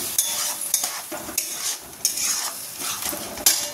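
Yogurt stirred and sautéed in hot oil for a vegetarian doi potol curry, with steady sizzling and repeated scraping strokes of a spatula against the pan, close and fairly loud, with no talking.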